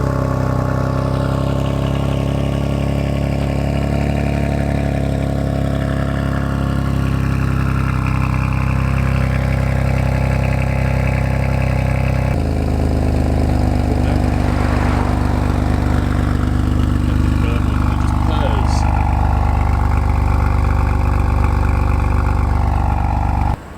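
A BMW M2 Competition with S55 engine, Active Autowerke mid pipe, secondary cat and resonator delete and back box, holds a loud, steady, deep burbling drone close by, shifting tone midway with no voices.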